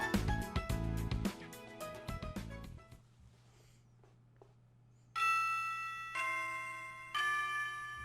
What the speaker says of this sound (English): The bell rang and the teacher left the room.